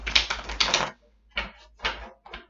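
Tarot cards being shuffled by hand, quick riffling bursts of papery clicks in several short close-up rounds separated by brief pauses.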